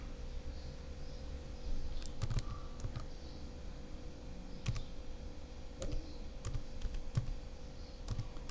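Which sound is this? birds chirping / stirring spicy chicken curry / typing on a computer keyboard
typing on a computer keyboard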